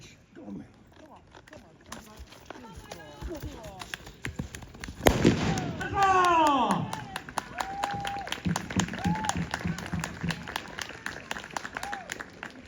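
Rifles fire in rapid bursts of sharp cracks at a British Army cavalry re-enactment at Belsay, with a heavy blast near the middle, horses whinnying and people talking throughout.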